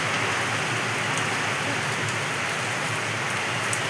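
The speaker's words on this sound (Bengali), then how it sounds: "দেখো বন্ধুরা কি পরিমাণে বৃষ্টি হচ্ছে, বাইরে বিদ্যুৎ চমকাচ্ছে।" Heavy rain pours outside during a thunderstorm, a steady, dense, loud hiss of drops on surfaces that holds evenly throughout with no distinct thunderclap.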